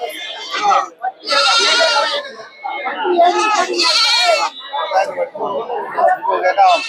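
Young goats bleat repeatedly and loudly at the crowded Polur goat market, their cries overlapping with people talking and general market chatter nearby.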